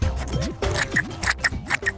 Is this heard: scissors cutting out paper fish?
yes